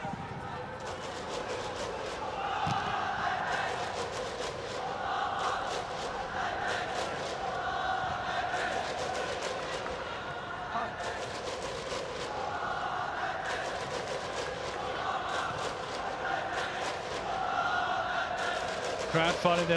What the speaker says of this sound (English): Crowd finding their voice.